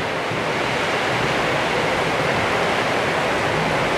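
Heavy tropical downpour driven by strong wind, with water flooding the floor, makes a dense, steady roar that holds at an even level throughout, with no voices.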